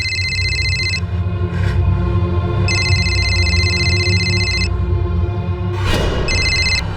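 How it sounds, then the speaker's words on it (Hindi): A telephone rings in electronic bursts, three long trilling rings separated by short pauses, steady and fairly clear over a low background hum. "प्रकाश जी फोन उठाइए।"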